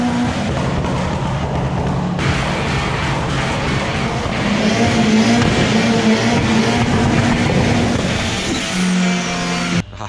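A Mitsubishi Starion fitted with an Evo engine, at a speed test race event in Jordan, runs steadily with a loud, sustained engine drone and broadband road noise throughout, with no talk.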